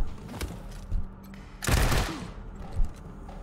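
Gunfire in the video game Wasteland 3: a few sharp shots followed by one louder, longer burst, close and prominent with no talking.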